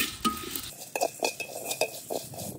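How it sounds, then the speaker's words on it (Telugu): Spice masala being dry-roasted in a pan for tawa chicken fry, with soft clinking stirs and light scraping at a close, quiet level, one short tone at the start, no talk. "ఇది మసాలా, సీక్రెట్ మసాలా వేయించుకోవాలి."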